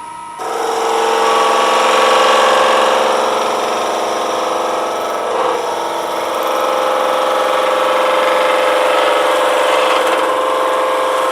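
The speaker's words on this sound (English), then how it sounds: "let me get one nice kind of planing cut on here" A wood lathe spins steadily while a skew chisel takes a planing cut on the turning workpiece during a woodturners' club demonstration, a loud continuous whirring hum with a smooth cutting hiss layered over it, no talking.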